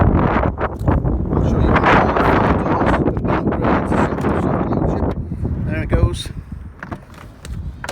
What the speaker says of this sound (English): Sorry about the wind, we'll soon be out the wind